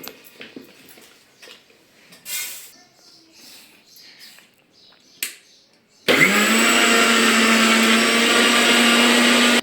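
Quiet clatter and shuffling of chili, salt and garlic being loaded into a mixer grinder, then the motor starts abruptly and whirs loud and steady for the last few seconds, grinding with a constant high drone.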